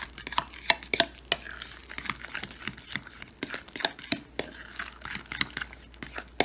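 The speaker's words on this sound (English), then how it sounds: "we're just going to mix that in" Pesto being mixed into a deviled egg filling in a bowl, with a run of irregular close taps, clicks and soft wet squelches from the utensil.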